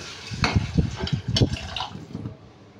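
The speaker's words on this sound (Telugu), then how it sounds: "1 గ్లాస్ వాటర్ పోసుకోవాలి." Water poured from a glass into a cooking pot of potato puri curry, a few splashy bursts with gurgling pours, moderately close and fairly quiet, with no talking.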